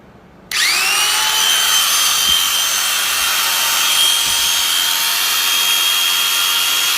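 A 750W electric animal hair clipper for sheep, horses and other livestock switches on half a second in, then runs with a steady, loud, high-pitched motor whine, alone and close.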